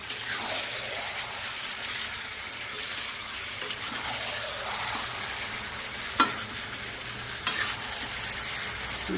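Meat sautés in a pan for kosha with sugar added, a continuous steady sizzle with a couple of sharp clinks of a utensil against the pan near the end, no talking.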